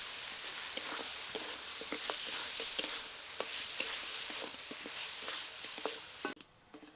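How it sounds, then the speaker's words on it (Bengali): Goat shanks sizzle in oily fried masala while being stirred, a steady close frying hiss punctuated by regular scraping clicks of a spatula, then cut off abruptly near the end. "টেংরিগুলোকে মশলার সাথে বেশ কিছুক্ষণ নাড়াচাড়া করে নেব।"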